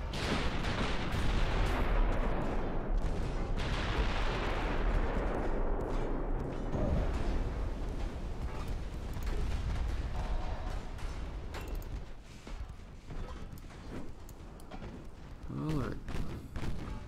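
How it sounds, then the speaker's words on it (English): A naval combat video game fills with continuous dense rumbling, booming gunfire and heavy thuds as torpedoes come in, loud and sustained, with a speaking voice mixed in. "We got torpedoes coming in."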